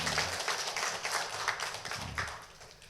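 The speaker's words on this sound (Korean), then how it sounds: "큰 박수로 하나님께 영광을 돌립니다." Church congregation clapping together after worship at a Sunday morning service, a steady broad patter of many hands, moderately loud and sustained, fading slightly toward the end.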